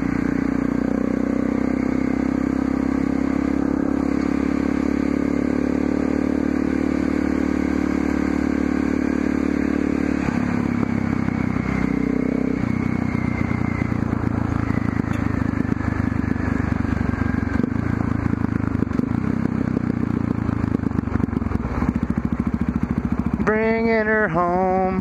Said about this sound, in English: At least the bike's running good. Let's bring her home.